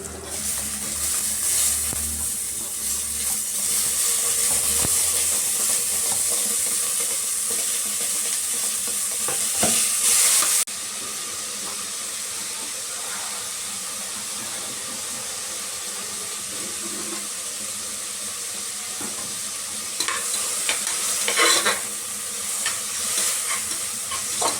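Tomatoes fry and sizzle in a pan while being stirred for annappa pappu sambar, a steady close sizzle with scraping stir strokes throughout, louder in the opening ten seconds and again near the end.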